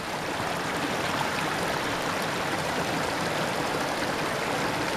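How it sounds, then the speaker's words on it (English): A river in Kyburz, California flowing over a hiking trail, its continuous loud rushing water filling the foreground with steady, unbroken white-noise turbulence. "the river's going right over the trail"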